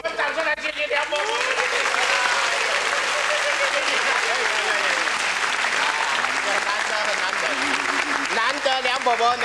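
Studio audience applauds on a Singapore TV variety show, a dense, steady wall of clapping that holds at full strength for the whole stretch.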